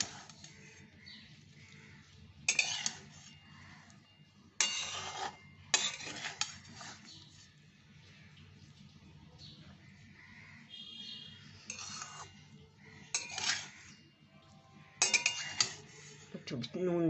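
Rice being stirred and mixed in a pot, with intermittent scraping and clinking of a utensil against metal in separate bursts over a quiet background.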